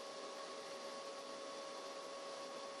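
CNC machine v-grooving aluminium composite panel (Alucobond ACM), a steady, constant high-pitched whine and hiss with a sustained tonal hum, unbroken and fairly faint throughout.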